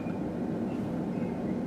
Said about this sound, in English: Man, this train is still going.